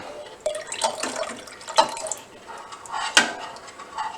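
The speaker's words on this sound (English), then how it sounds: "we're going to add the rennet to our milk. Okay, so slowly stirring and then adding that up and down motion" Rennet is stirred into milk for cheese making, with slow stirring and up-and-down motions giving soft liquid sloshes and occasional clinks of a utensil against the pot, irregular and close, with no voices.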